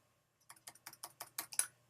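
A computer keyboard being typed on in a quick burst of about ten crisp keystrokes, close and clear in an otherwise quiet room.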